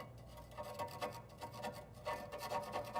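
A flathead screwdriver scrapes loose, flaking paint and rust off metal in short, repeated rasping strokes, quiet and close, with brief pauses between passes.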